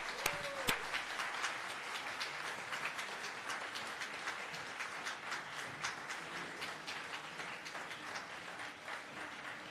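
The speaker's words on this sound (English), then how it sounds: "I'd ask the seniors to give them one last round of applause." Seniors at a Georgetown Preparatory School senior awards banquet give faculty and staff a final round of applause, a steady wash of many hands clapping that holds from start to end with no voices over it.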